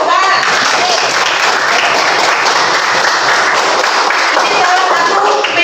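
Applause from an audience at a school musical drama performance, dense steady clapping filling the whole stretch, loud and close, with some voices mixed in.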